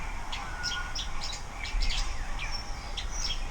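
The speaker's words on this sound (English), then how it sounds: "That's what's making that noise, the kookaburra." A kookaburra calls outdoors, a string of bright, chattering cackles and chirps rising and falling over a few seconds against a steady background hiss, moderately distant, with no talk.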